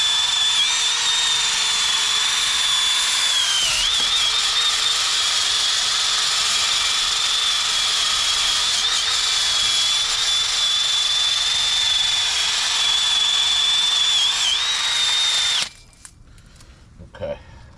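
A power tool grinds rust off the outer hub face of a Chevy Suburban-type truck brake, whining loudly and steadily for about fifteen seconds with small dips in pitch, then stops abruptly, leaving a quiet workshop.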